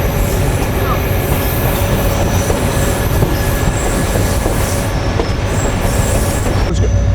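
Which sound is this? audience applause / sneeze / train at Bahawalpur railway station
train at Bahawalpur railway station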